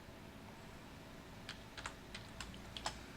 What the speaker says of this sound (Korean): 이게 타이핑이 쉽지 않네요.